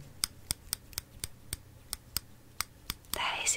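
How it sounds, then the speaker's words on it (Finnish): Small nail scissors snip close to the mic in a quiet ASMR setting, giving about a dozen crisp, evenly spaced clicks, followed by a brief soft rustle at the end. "Apua, mulla on sakset tässä. Mun kynsisakset."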